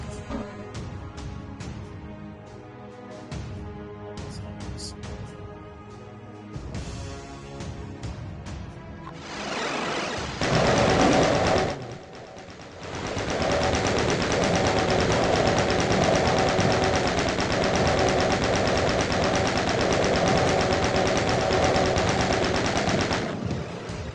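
Rocket launcher fire and explosions blasting Barons of Hell in the video game Doom, dense and loud with repeated bursts and a sustained roaring barrage in the second half, no talk.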